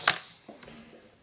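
A Lego flick-fire missile snaps off with one sharp click, followed by a few faint plastic taps and rattles in a quiet room.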